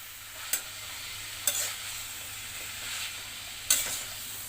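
Taro stolons stirred into hot oil with prawns in a frying pan, giving a steady soft sizzle broken by three sharp spatula scrapes and clacks against the pan, close up with no talking.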